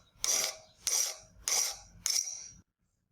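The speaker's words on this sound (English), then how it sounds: "I file it flat after using the diagonal cutters on it." Steel pin stock on a straight razor being filed flat, four distinct rasping file strokes at a steady rhythm of roughly one every half second, close and crisp, followed by silence.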